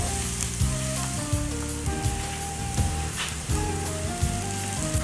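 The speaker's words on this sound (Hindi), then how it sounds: "सबसे पहले हम प्याज फ्राई कर लेंगे।" Chopped onions sizzle in hot oil in a frying pan for an egg and lentil dish, a steady, moderately loud hiss heard under continuous, prominent background music.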